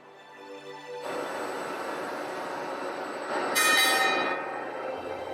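Electric towing locomotive, a mule on the Panama Canal lock wall, hauling a cruise ship: a steady loud mechanical rumble and hum starting abruptly, swelling with a brief high metallic squeal near the end, no voices.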